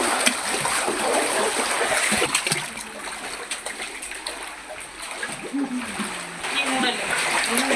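Rainwater rushes and splashes across a road during heavy rainfall in Dharwad, a continuous watery wash with scattered splatters and voices faintly present in the background.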